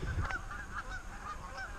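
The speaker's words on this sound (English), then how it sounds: "damn, lots of geese." Many geese honk together outdoors, a steady chorus of overlapping calls that goes on without a break, with no talking.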